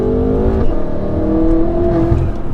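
A 1000bhp BMW M5 accelerates hard through the gears on a night drive, heard from inside as a loud, continuous engine roar with a rising tone and a brief dip at a gear change.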